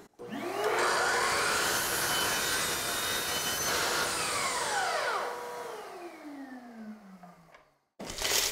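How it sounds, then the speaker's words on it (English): A saw cuts the factory edge off a 1x8 wooden board during window stool trim work, a loud, close, continuous whine that winds down as the blade slows, then a brief silence and a short burst. "So just gonna cut that factory edge off first."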